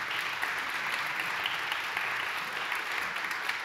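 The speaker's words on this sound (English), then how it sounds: "Yeah, we can applaud for that." Steady applause fills a high school choral spring concert, a dense wash of many hands clapping at even strength throughout, with no voices over it.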